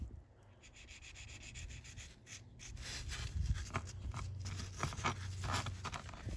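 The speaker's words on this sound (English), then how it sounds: "So now that we sanded our excess glazing putty" Light hand sanding of excess glazing putty on a small die-cast Hot Wheels car body, soft close rubbing strokes in an uneven rhythm, quiet and alone with no talk.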